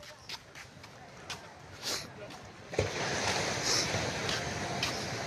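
Sea surf at Gubat beach, Sorsogon, a continuous rushing wash of waves with wind noise that swells louder partway through, beneath someone talking.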